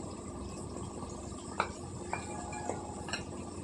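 Spoon stirring brinjal curry with ginger and green chili paste in an oily pan, giving a few sparse metallic clinks and scrapes over a steady low background hiss.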